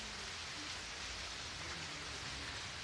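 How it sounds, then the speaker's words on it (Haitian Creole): Heavy rain pours down during an outdoor film shoot, a dense, unbroken hiss of drops hitting surfaces. It sounds steady and soft in level, with no voices over it. "Gros la pluie qui a tombé là, tout le monde obligé chita."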